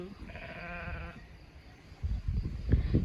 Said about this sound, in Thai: แกะของคุณตาค่ะพี่น้อง